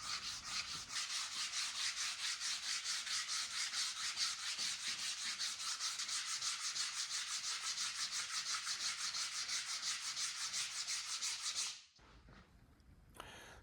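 Steady rhythmic back-and-forth sanding on a walnut farmhouse table, a close, gritty rasping that continues for several seconds before stopping abruptly.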